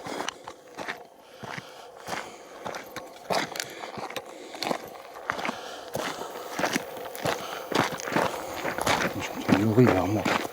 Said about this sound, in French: J'entends des putains de bruit de pas.